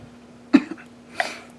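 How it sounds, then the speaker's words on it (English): A single sharp cough, followed a moment later by a softer throat-clearing rasp, close and otherwise quiet. "I'm going to cough on camera because I don't care"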